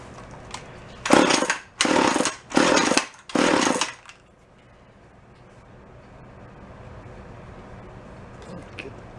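Four short, loud bursts from an antique gas-powered drill engine as it's pulled and fires briefly, each cutting off after about half a second, followed by quiet background.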